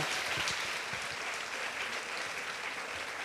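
Steady audience applause at a women's testimony gathering, a dense, even wash of clapping lasting the whole span at moderate, slightly distant level, with no voices over it.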